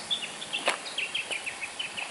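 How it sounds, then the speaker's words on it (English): A few birds chirping outdoors near Woolgoolga, short high calls repeated in a quick, uneven series, faint and fairly distant over quiet background hiss. "A few birds I can hear."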